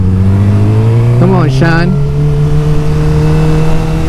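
A 2009 Suzuki GSX-R 600 motorcycle engine in C riding mode drones loud and close as it accelerates, its pitch rising steadily, while a rider briefly speaks over it midway.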